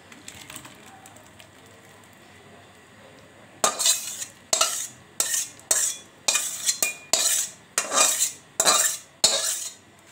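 A spoon scrapes fruit chutney out of a pan: after a quiet start, about nine loud, close metallic scrapes come in quick, rough rhythm, with no talking.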